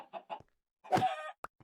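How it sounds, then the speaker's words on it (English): Chicken clucking in modded Minecraft StoneBlock 2, two short clucks followed by a longer squawking call and a few brief clicks, clear and close with no talk. "Got another chicken."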